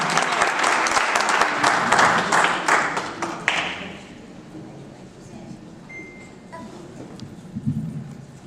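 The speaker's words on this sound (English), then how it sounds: "let's give a round of applause" Audience applause for a Harris County Missing Persons Task Force officer, loud dense clapping for about four seconds, then fading into quieter room noise with a few scattered sounds.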